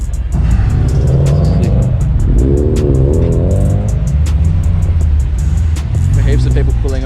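Several cars arrive and idle at an outdoor car meet, a steady loud engine rumble with a couple of revving swells, heard beneath people chatting nearby.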